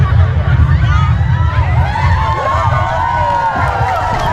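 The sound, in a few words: audience clapping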